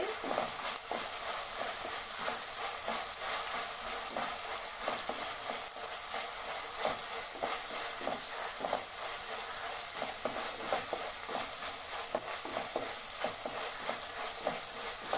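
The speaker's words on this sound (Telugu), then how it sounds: "తెల్లగడ్డ పేస్ట్ పచ్చివాసన పోయేంత వరకు వేయించుకున్నామండి" Garlic paste fries in a pan for an Andhra-style prawn fry, a steady, close, loud sizzle running throughout with frequent scraping stir strokes and no talk.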